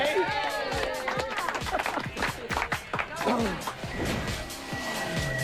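A race car launches off the start line at a South Australia motorsport event, its engine revving hard in rapid throttle blips and rising sweeps, loud and close over crowd noise and commentary.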